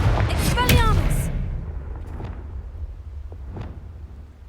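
A Confringo spell cast in the Hogwarts Legacy video game bursts out loud at the start, with a whooshing magical blast that decays into a low rumbling tail. Scattered crackles and smaller impacts follow over a steady background hum.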